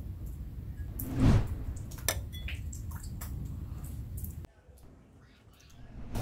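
Water being stirred in a glass with moringa seeds, with a loud clink of a utensil against the glass followed by lighter taps, swishing and small clicks, then a quieter stretch.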